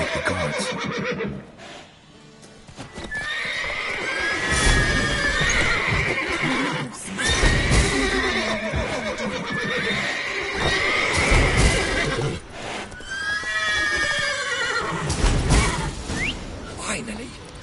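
Horses neigh and whinny several times over galloping hoofbeats in The Witcher video game, loud and sustained throughout, with rising calls recurring every few seconds and some talk mixed in.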